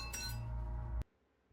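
A glass is struck and rings with a bright clink that holds for close to a second and then cuts off sharply, leaving near silence and no sound of breaking.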